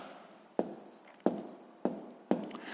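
Pen writing on paper during a sixth-grade maths lesson: four short, sharp scratchy strokes close by, each followed by a brief fading rasp, with faint room tone between them.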